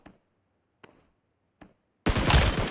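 Gunfire in the mobile battle royale game PUBG Mobile: three sharp, isolated shots spaced under a second apart, then a sudden loud sustained burst of automatic fire.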